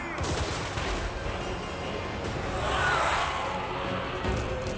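Massed gunfire in a Total War: Warhammer 3 battle against a demonic horde, a dense continuous crackle of volleys with a rumbling low roar, swelling in the middle and steady throughout, no voices.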